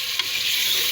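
Beef pieces sizzle steadily in a hot pan as spices are stirred through them, a continuous bright frying hiss with one soft scrape of the spoon early on.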